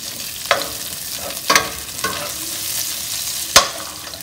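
Onions and garlic sautéing in a pan for pork kilayen, a low continuous sizzle punctuated by four sharp spatula scrapes and knocks against the pan, close up with no talking.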